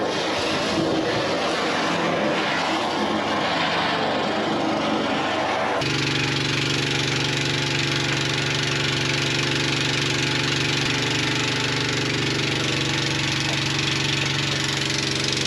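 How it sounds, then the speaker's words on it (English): A pump engine runs steadily and loudly the whole time, a continuous mid-pitched droning hum with no pauses, its tone shifting slightly partway through, with no voices over it. "So now I'm gonna shut the pump off"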